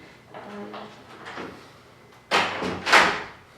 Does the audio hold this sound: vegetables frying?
no